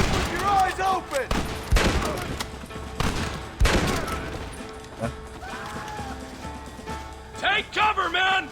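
Repeated gunshots and bursts of rifle fire in Red Dead Redemption during a shootout with U.S. Army soldiers, loud cracks scattered irregularly amid shouting voices and background score.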